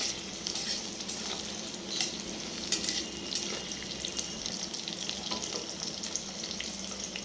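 Potatoes and eggplant frying in oil in a pan give a steady, close crackling sizzle, with occasional light stirring scrapes and pops, and no voices.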